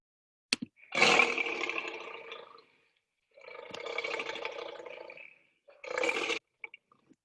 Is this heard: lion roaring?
yes